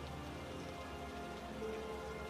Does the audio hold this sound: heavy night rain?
yes